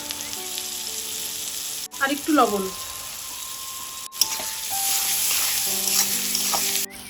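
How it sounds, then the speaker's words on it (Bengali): Onions and green chilies frying in hot oil for an egg and potato chop, a steady loud sizzle with brief breaks as ingredients go in, while someone speaks briefly over it. "তেলটা খুব ভালো করে গরম হয়ে গেছে, দিয়ে দিচ্ছি পেঁয়াজ।"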